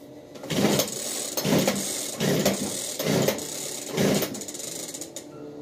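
Chainsaw engine being pull-started with the choke set halfway: a string of five or six rasping starter-cord pulls, each a sharp mechanical burst, catching and firing only faintly before stopping.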